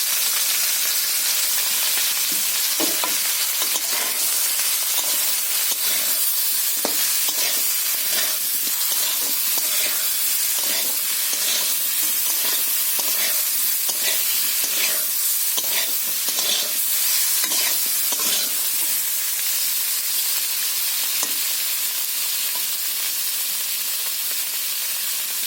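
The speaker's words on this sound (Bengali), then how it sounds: "বীজ কলা আলু ভাজা হয়ে গেছে" Plantain and potato slices fry in oil in a pan for a Bengali shrimp curry, a dense, steady sizzle with intermittent stirring scrapes and bursts, close and loud, with no voices throughout.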